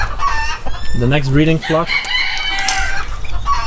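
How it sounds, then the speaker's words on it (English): A black mottled Ancona bantam rooster crows and clucks loudly and close by, heard amid other poultry calls while a person speaks briefly. "So we have our black mottled Ancona bantam rooster over here"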